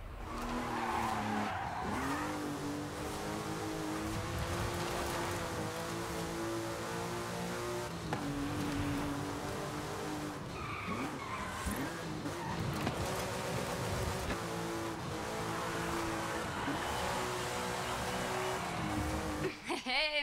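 Cars racing in Forza Horizon 5, engines revving and whining through gear changes with tyre squeals and skids, loud and continuous for twenty seconds, with a voice talking over the racing.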